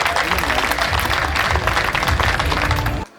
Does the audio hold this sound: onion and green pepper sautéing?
no